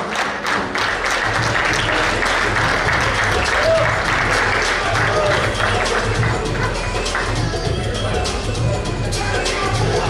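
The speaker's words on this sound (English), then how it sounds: "Big round of applause." Sustained applause from a large seated crowd at a cricket league awards and annual banquet night, dense steady clapping filling the room with a faint murmur of voices underneath throughout.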